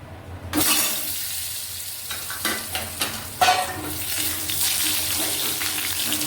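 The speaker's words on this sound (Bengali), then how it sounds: "2টো আলু লম্বা লম্বা করে কেটে ধুয়ে রেখেছিলাম, এই আলুগুলো ভেজে নেব।" Long potato sticks tip into hot oil with already-fried cumin seeds and burst into a loud, broadband sizzle that keeps crackling steadily, with occasional stirring scrapes.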